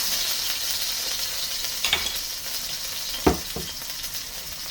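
Food frying in a hot wok with olive oil for a beef stir fry: a steady close sizzle with a few brief stirring clatters over it and no talk.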